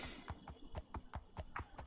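Horse hooves trot in Minecraft Bedrock in a steady run of about ten evenly spaced clip-clop hits, close and clear with no talking.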